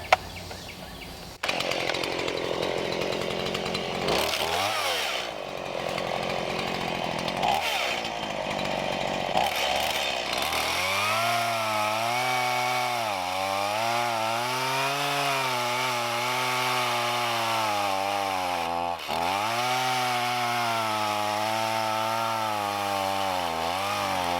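A freshly sharpened chainsaw revs and then bites into a log, its engine droning loud and close in long sustained cuts with pitch dips as the chain loads, and the first seconds are rougher and more broken.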